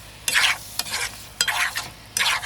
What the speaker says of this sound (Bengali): চামচটা দিয়ে নেড়ে চেড়ে দিই